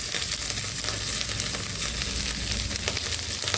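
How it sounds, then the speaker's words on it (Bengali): Chopped tomato frying with browned onions in a pan for Bengali fish-head murighonto, a loud, dense, continuous sizzle heard up close with no talking. "এটাকেও কষিয়ে নেব।"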